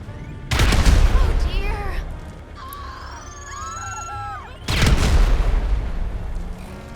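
A handheld grenade in GTA 5 detonating with a heavy, booming blast, followed by a quieter stretch of whistling, chattering game sounds before a second loud explosion erupts.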